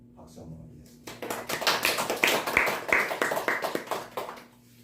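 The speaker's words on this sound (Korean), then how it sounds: "아기 예수님 탄생에 대해서 우리 감사와 기쁨에 박수 한번 드리겠습니다." Church congregation clapping together in a Christmas service, a burst of irregular claps in a hall that rises after a quiet start, holds steady for a few seconds, then fades out.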